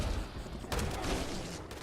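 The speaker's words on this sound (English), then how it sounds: "Let's switch to the shotgun." Gunfire from a shotgun in the video game Fallout 76, a dense burst of loud blasts crowding together over a couple of seconds, with no talk over it.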